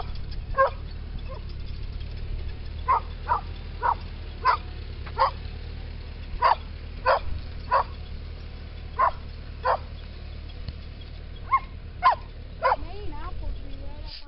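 A puppy gives a long series of short, fairly faint yips and barks at irregular intervals outdoors in a garden, with a low steady hum underneath.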